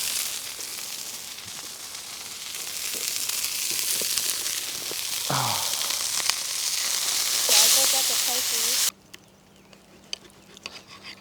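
Steak sizzles in a pan at a glamping campsite, a steady, fairly loud frying hiss with faint background talk, ending abruptly into near quiet.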